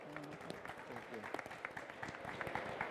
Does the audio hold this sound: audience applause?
yes